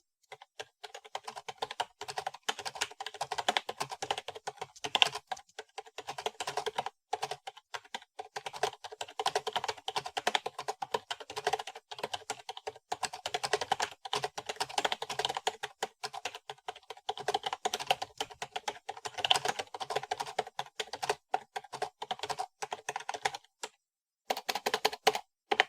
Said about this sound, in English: And now for the typing test.